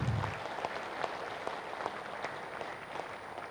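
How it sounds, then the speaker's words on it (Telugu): Scattered applause from an audience at a devotional talk, a brief, fairly quiet patter of claps that stays even throughout. "ఒకసారి గట్టిగా చప్పట్లు కొడదాం."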